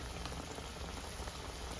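Three unnakkaya, Kerala plantain snacks, crackling and bubbling in hot frying oil, a close, steady, rain-like sizzle that stays even from start to finish with no voices.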